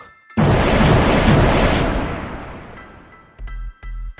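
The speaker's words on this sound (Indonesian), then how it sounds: "Tembakan meriam beruntun menghadapi pasukan Roland." Cannon fire: a loud boom bursts out and rumbles away slowly, followed by a couple of short, deep thumps near the end.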